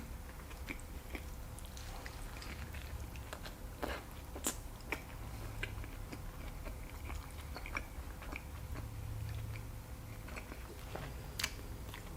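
A large Burger King burger being bitten and chewed up close, with faint, soft, wet crunching and mouth sounds in an uneven rhythm over a quiet background.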